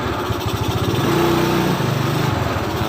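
A small automatic motor scooter engine, just started after a starter fault, idles with a fast, steady putter, briefly revving higher before settling back, close and continuous.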